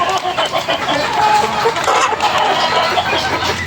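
Several hens cluck continuously and close by, a busy overlapping chatter with no talking.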